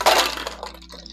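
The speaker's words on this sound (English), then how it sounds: "Then you wanna dump the ice and water that you've been having sitting in your chilled cocktail glass." Ice and water are dumped out of a chilled cocktail glass, a sharp close clatter of cubes knocking against glass followed by a brief splash and a few fading clinks, with no talk.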